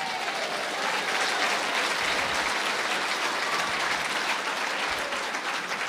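A church congregation claps at a worship service: steady, dense applause that stays full and even from start to finish, with no voices over it.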